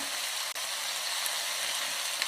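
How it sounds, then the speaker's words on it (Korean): Eggplant stir-fries in a pan after a splash of water is added, for a Chinese-style eggplant rice dish, producing a continuous, even hiss and sizzle close by with no voices. "물을 넣어주시고, 볶아주세요."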